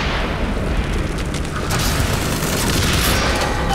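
An RPG rocket explodes in the video game Bioshock Infinite, followed by a loud, continuous roaring rumble of blast and debris that fills the whole stretch without a break.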